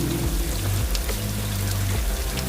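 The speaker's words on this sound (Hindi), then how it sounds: "जो ये बारिश तेज हुई" Heavy rain pours down in a dense, continuous wash with a splashing, trickling quality, loud and close, with no voices.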